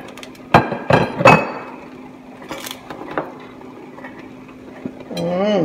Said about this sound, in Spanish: Se me cayó el aceitito de coco.